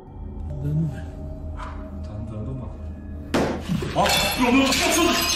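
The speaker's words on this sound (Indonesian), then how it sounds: "suara itu terdengar kembali seperti pecahan kaca" A roof tile falling and breaking with a sharp glassy crash, heard after a stretch of quieter background and followed by scattered clinking debris, with people talking throughout.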